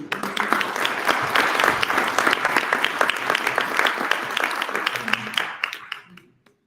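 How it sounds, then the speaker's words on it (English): Youth summit audience applauding at a human rights event, dense sustained clapping from a sizable crowd that holds steady, then thins out and fades to silence, with a few voices mixed in. "Give a round of applause, please"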